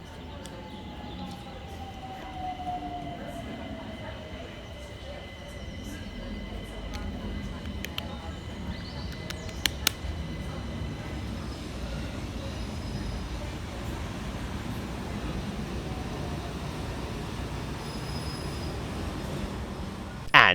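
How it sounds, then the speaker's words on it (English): Southeastern Class 376 electric trains 376002 and 376006 pull into a station on the Hayes line, a steady rolling rumble with a falling whine, brief clanks and a faint squeal building near the end. "here comes 376002 and 376006, working the 1455 Southeastern service from Hayes through to London Charing Cross"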